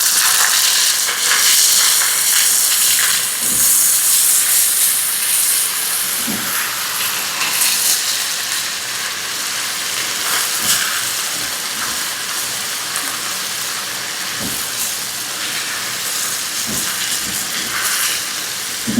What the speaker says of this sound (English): I'll go ahead and let the tomato and the onion cook a little bit